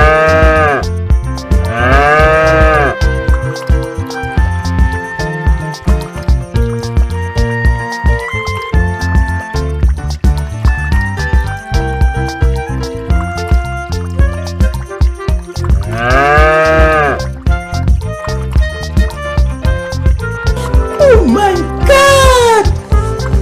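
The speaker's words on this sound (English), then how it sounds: "This is a cow." A cow moos in long, loud calls at several points over bright, busy music, with more mooing toward the end.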